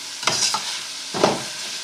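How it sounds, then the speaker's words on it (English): Onions and peppers for fajitas sauté in a hot pan with a constant close sizzling hiss. Two brisk spatula stirs scrape through it about a second apart, with no talking. "So my onions and peppers are still sauteing."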